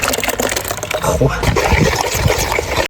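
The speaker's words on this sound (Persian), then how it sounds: "بچه این آبش خیلیه، دارم همین نصفشو خالی میکنم تو این" Water poured from an overfull container into a mixing vessel while preparing glue, a continuous splashing trickle running the whole time beneath nearby voices.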